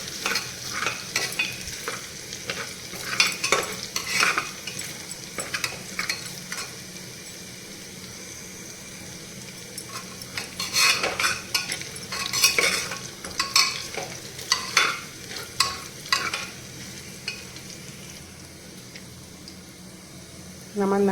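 Ginger stirred and frying in a pan for home-style Punjabi rajma, with soft scraping and sizzling bursts that come and go in irregular clusters, fairly close and moderate in level.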